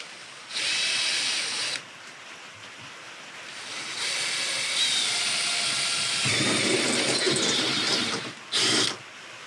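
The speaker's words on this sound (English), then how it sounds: "I think right there is where I'm going to drill a hole." A power drill bores a hole into a 3rd-gen Tacoma camper in bursts: a short whine, a pause, a longer steady run that grows rougher, then a final quick burst, with no talking.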